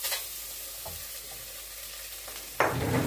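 A pot sizzles steadily as meat frying for a Brussels sprouts stew, with a quiet hiss that suddenly grows louder and crackly near the end.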